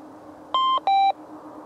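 A Force metal detector switched on outdoors in a field gives two short clear electronic beeps in quick succession, the second pitched lower, over faint background noise.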